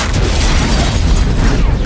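A film explosion, a loud booming blast with rumbling low-end debris that stays heavy throughout, then cuts off abruptly at the end.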